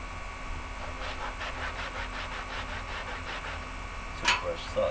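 Toothbrush scrubbing old rusty, glue-crusted parts from a Kyosho Jetstream 1000 nitro boat, a steady close rhythmic bristle rasp repeating about once a second, with a brief sharper scrape near the end.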